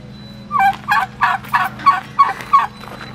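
Turkeys on a farm with baby goats gobble in a rapid series of six or seven loud, rattling bursts, fairly close, over a steady low background hum.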